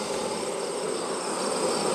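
Bees swarming around an open hive give a dense, steady buzzing drone that fills the air evenly, close by and unbroken, with no voices.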